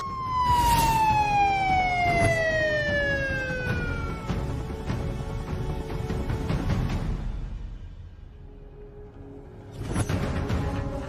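A police car siren wails loud and close, its pitch sliding steadily downward over several seconds before it fades. A fresh burst returns near the end, with no talk over it.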